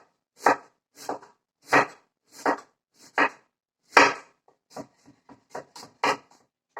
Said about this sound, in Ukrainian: спочатку я нарізаю цибульку пів кільцями і тоненько